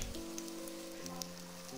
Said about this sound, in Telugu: ఆవాలు జీలకర్ర పేలుతున్నాయి